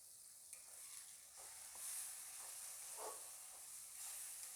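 Ground spice paste hitting fried onions in a hot pan for mete chochchori, a steady close sizzle and hiss with faint stirring scrapes throughout, no voices.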